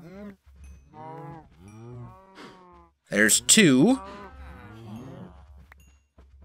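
Cows low in the Minecraft FTB Departed modpack, several moos in sequence, one loud rising call standing out at mid-clip, while someone talks briefly between them.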